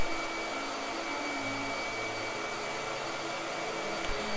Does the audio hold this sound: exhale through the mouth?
no